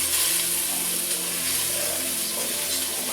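Beef sizzling in olive oil in a pan, a constant loud hiss and crackle of frying that holds steady throughout with no voices.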